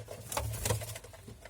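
Young homing pigeons in a loft give soft, low, muffled cooing with faint shuffling, quiet and steady over a low background hum.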